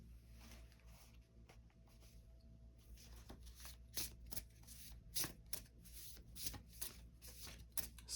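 A tarot deck is shuffled by hand, giving soft repeated riffling and slapping flutters in quick bursts across the clip, close but quiet against a low background hum.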